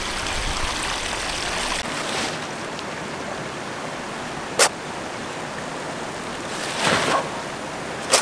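Water pours steadily through the spillway of a lagoon where a net-cage fish tank is set, a constant broadband rushing with a couple of brief splashy bursts, no voices.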